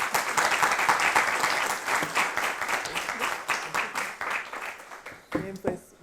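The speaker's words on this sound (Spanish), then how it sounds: "quisiera pedirles un aplauso para ellos" An audience at a Spanish-language talk on radiation applauds the invited speakers, with steady dense clapping that thins out toward the end into a few scattered final claps.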